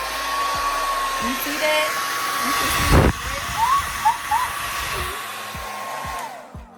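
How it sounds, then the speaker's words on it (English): A Revlon blow dryer runs with a steady, loud whirring hum close by for several seconds before it cuts off, while someone talks briefly over it. "We're gonna use this blow dryer. It's the Revlon."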